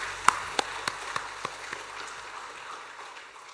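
A church congregation gives a few sharp, evenly spaced claps that quickly thin out and fade into quiet room noise, with no talking.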